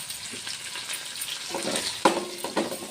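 Ginger garlic paste fries in a pan for coconut bagara rice, a soft continuous sizzle with stirring scrapes growing busier toward the end, including a couple of sharper knocks, without speech.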